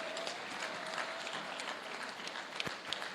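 A university graduation audience gives a standing ovation, producing a soft, distant, continuous patter of hand clapping with scattered louder claps and faint crowd noise, fairly low in level throughout.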